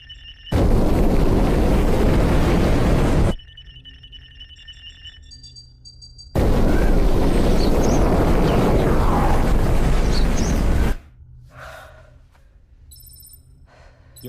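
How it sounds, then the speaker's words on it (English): Spacecraft ion engine burn, two long, loud roaring bursts of dense rushing noise, each a few seconds long. Quiet stretches with faint electronic tones and beeps come between and after them. "Initiating ion engine burn."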